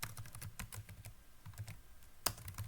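Close, quiet typing of code on a computer keyboard, with a steady run of light key clicks and one sharper tap near the end, and no talking.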